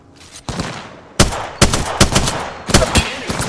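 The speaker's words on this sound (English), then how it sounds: "The enemies are shooting at me." Gunfire from enemies in a video game, several sharp loud bursts arriving in clusters after a quiet start, alone with no talking.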